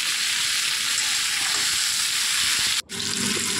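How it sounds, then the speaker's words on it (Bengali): Okra (bhindi) frying in oil in a pan over medium heat, a steady bright sizzle that runs continuously, broken by one short gap near the end, with no talk. "মিডিয়াম টু রেখে কিন্তু ভেন্ডিগুলো ভাজতে হবে।"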